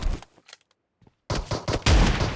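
Shotgun blasts in PUBG Mobile gameplay: a few sharp bursts early, a near-silent gap, then a loud cluster of heavy overlapping shots toward the end.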